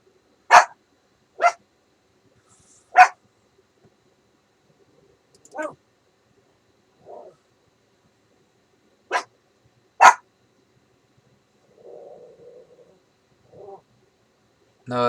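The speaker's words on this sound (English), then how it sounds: "That's my dog barking." A dog barks from another room of a house, a handful of sharp, widely spaced single barks scattered over the stretch, faint and distant against near silence.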